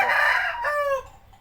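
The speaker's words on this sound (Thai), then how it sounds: "ขอโทษเด้อมีเสียงไก่เสียงมา" A rooster crows close by, a loud drawn-out call that trails off quickly, with no other sounds around it.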